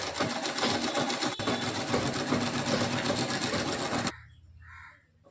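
An electric sewing machine stitches the folded hem of a child's palazzo trousers. It gives a rapid, steady whirring hum for about four seconds, then stops abruptly, leaving near quiet.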